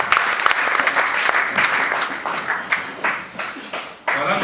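A church congregation claps in loud, dense applause, a steady rattle of many hands that eases slightly before a final burst, with faint voices mixed in.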